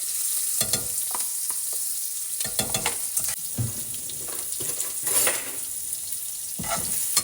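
Green chillies and garlic-chilli paste with turmeric sauté in a hot pan, giving a steady close sizzle broken by repeated scraping stirs of a spoon, with no talk.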